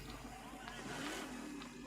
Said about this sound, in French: Voiture.